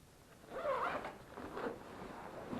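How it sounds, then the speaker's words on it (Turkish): Velcro patches on a four-season motorcycle jacket being torn apart, a close, soft rasping rip in two or three short pulls, heard alone. "Şuralar cırt cırtlı."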